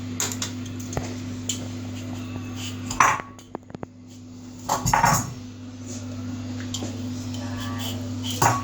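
Knife work on a peeled potato being cut into chips for deep frying, a few clicks and knocks against a board over a steady low kitchen hum, with faint movement noise between cuts.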